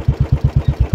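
A motorcycle crossing a suspension footbridge in Bhojpur, Nepal; its engine throbs close and loud in rapid, perfectly regular pulses.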